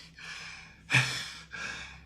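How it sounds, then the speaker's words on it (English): A dog's breathing close by, three drawn-out breaths in a slow rhythm, the middle one louder and sharper, like a snort or huff. "I can hear you breathing."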